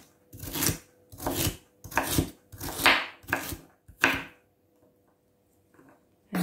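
A knife chops a carrot on a chopping board in six steady, close, crisp strokes, each a sharp thud on the board, and then it stops, leaving near silence.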